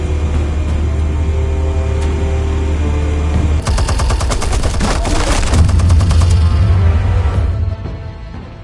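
Heavy, rapid gunfire rattles in the Batman Telltale video game, a loud, dense burst of continuous shots over a low rumble that thins out near the end.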